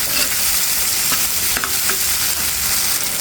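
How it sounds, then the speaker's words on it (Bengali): A shoal fish bharta is stirred in a pan with mustard oil, giving a loud, close frying hiss and scattered scraping, tapping strokes of the spoon. "এখন আমি এটা নেড়ে ছেড়ে দিচ্ছি।"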